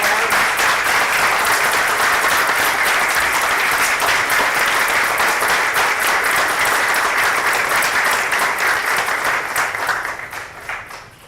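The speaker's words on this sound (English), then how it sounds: "So shall we give her a round of applause?" An audience at a board meeting gives a retiring secretary a loud, sustained round of applause. The clapping is dense and steady for about ten seconds, then thins and fades out.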